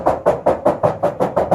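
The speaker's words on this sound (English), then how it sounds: "Now the roof on this without any sound deadener sounds like this." Bare roof panel of a Ford Foxbody Mustang with no sound deadener, knocked by hand: eight evenly spaced, close raps in a steady rhythm, each with a hollow, tinny ring.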